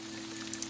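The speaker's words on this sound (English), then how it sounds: "it seems that it has begun to rain" Rain starting to fall, a soft continuous patter with a few light droplet ticks over a steady low hum, heard alone without speech.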